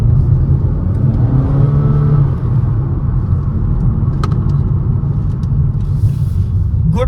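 A 2023 Honda Elevate ZX CVT compact SUV in sport mode gives a steady, loud engine and road rumble as it accelerates on an open road, with a faint rising tone in the first seconds.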